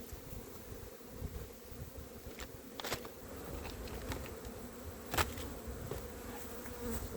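A dense drone of honey bees buzzing around an open hive box during spring apiary work, steady and close, with a couple of brief clicks and knocks from handling the box.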